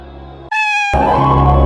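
A single loud cat meow, clear and close, cutting sharply through a noisy background, followed by a louder burst of mixed sound.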